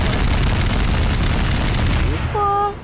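An admin pistol in Garry's Mod fires a loud, dense rapid burst that rattles continuously for about two seconds, then cuts off, leaving a few short electronic tones at the end.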